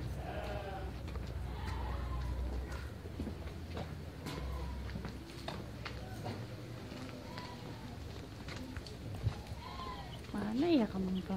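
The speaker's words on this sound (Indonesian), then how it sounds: "Ada suara kambing." Sheep-like bleats, probably goats, sound now and then in a village setting, faint to moderate against steady background noise and voices talking throughout, with a clearer bleat near the end.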